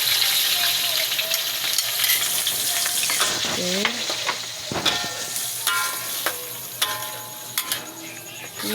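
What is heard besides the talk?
blended onion frying in hot oil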